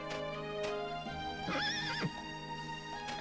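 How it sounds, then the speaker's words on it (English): A horse-drawn wagon in the Dragon Quest VIII video game, near the Pickham pub and inn: a single loud, bright whinny rises and trembles for about half a second amid a steady in-game music and ambience bed, with faint hoof clip-clops. "Hey look, the Horse Princess"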